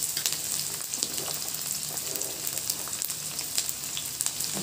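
Onions are added to hot oil with reddened green chillies and fry with a continuous, fairly quiet crackling sizzle that stays even throughout, with no talk over it.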